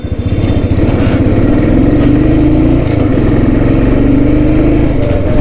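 A Royal Enfield Thunderbird motorcycle engine runs loud and close with a steady, throbbing thump, its rear wheel spinning while the bike stands still, a constant drone with no pauses.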